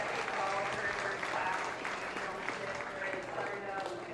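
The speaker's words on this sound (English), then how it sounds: "Let's give them a great big round of applause here this morning for their work." Audience applause at a swine show, a steady, moderately loud wash of clapping throughout with faint crowd murmur underneath.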